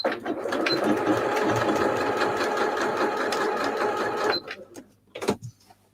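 A sewing machine runs steadily as it stitches fabric scraps together, a fast continuous mechanical whir for about four seconds before it stops, followed by a few brief clicks and handling sounds.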